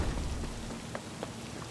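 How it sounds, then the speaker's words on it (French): Rain falls steadily in the video game Cyberpunk 2077, a faint continuous patter with a few soft droplet ticks and no speech. "mais il pleut, sa mère."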